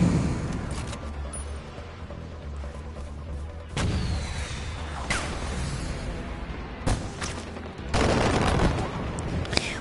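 Gunfire in the Far Cry 4 video game, with scattered sharp shots and booming bursts, several louder blasts near the end, over a rumbling in-game background.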